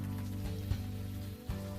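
Steady rain falls in the Unavowed adventure game, a continuous hiss laid over a low sustained hum, with two brief dips and soft thuds breaking the even wash.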